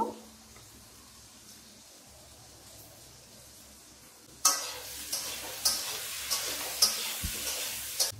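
Potatoes fry in a pan with a steady sizzle, and after a few seconds a spoon begins stirring with repeated close scraping knocks over the hiss.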